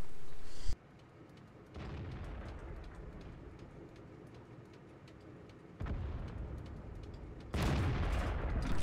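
A gunshot hits an enemy in a combat video game on the El Halluf map, with heavy booming blasts that break over a steady rumbling battlefield wash, and no voices.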